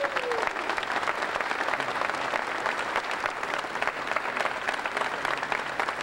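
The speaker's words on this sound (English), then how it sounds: "Let's give these guys another great round of applause" An audience at a gubernatorial endorsement event applauds, a dense, steady wash of clapping sustained throughout at moderate volume with no talk over it.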